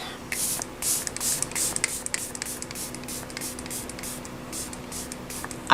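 Rapid bursts of cherry-scented face setting mist spraying from a pump bottle, many quick hissing puffs in a row, soft and close, trailing off into quieter sprays.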